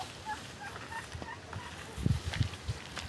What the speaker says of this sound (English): Here's where she has her chickens.